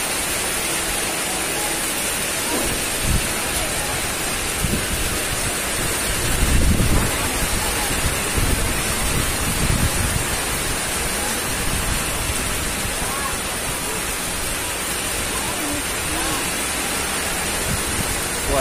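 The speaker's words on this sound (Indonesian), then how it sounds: "Wah, hujan guys." Rain pours steadily outdoors, a dense, even hiss that lasts throughout, with scattered low thumps and rustles of handling close by.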